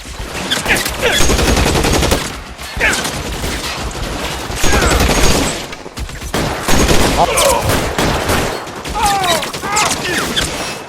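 Covering gunfire in the video game L.A. Noire: a loud, sustained fusillade of overlapping shots, broken by brief pauses, with shouted voices over it.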